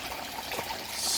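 Hose water is pumped through a DIY RDWC hydroponic system in a greenhouse, heard as a close, continuous trickling and gushing of water over a low pump hum.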